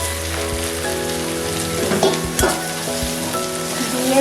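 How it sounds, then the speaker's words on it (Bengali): Soybean chunks fry in hot oil with turmeric, giving a steady loud sizzle broken by a few sharper spatters and spoon stirs. "ভালো করে নেড়ে এবার সোয়াবিনগুলোকে আমি তেলে ভেজে নেব"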